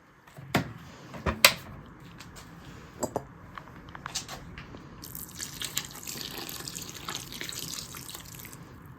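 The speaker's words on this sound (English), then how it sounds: "So I'm gonna go get some water." Water runs from a kitchen tap into a container after a few clunks and handling noises, and the steady splashing flow builds over the last several seconds, fairly close and moderately quiet.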